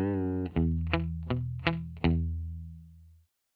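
Guitar plays the closing phrase of a song with distortion and chorus effects: a held chord followed by four plucked notes in a steady rhythm, ringing out and fading, loud and alone.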